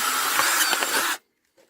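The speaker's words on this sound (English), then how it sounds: "drill a hole through both the lid and the actual body of the trap" A power drill bores a hole through the lid and body of a plastic minnow trap with one loud, close grinding burst of about a second that cuts off sharply, followed by a faint click.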